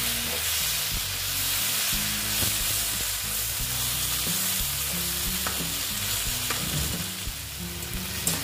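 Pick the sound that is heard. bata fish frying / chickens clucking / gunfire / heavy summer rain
bata fish frying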